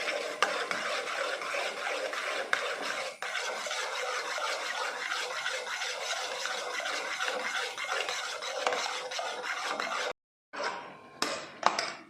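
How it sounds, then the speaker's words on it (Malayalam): Aloe vera gel is mixed into a homemade hair straightening cream in a bowl, a continuous brisk scraping and swishing stir that stops briefly near the end before a few last strokes. "എന്നിട്ട് അതുകൂടെ കൂട്ടി നന്നായിട്ട് മിക്സ് ചെയ്തെടുക്കാം."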